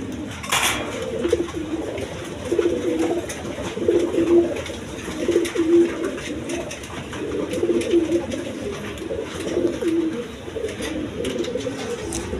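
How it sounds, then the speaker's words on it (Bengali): A pair of Chulli pigeons coo repeatedly in low, soft rolling phrases at a steady pace, close by over faint background noise, with no talk. "এখানে এক পেয়ার কবুতর আছে দেখেন, চুল্লি কবুতর বলে"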